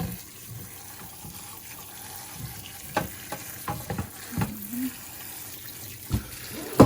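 Water runs over cooked ground beef in a pan, rinsing off the grease, with a steady low wash of flowing water broken by clinks and scrapes of a utensil stirring the meat.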